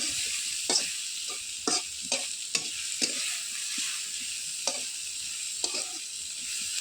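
Onions being stirred in a pan over an earthen stove for an egg curry, with steady close frying sizzle and a series of sharp spoon scrapes and taps at irregular intervals.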